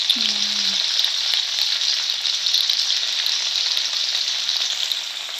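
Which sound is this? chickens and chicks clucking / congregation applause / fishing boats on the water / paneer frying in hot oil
paneer frying in hot oil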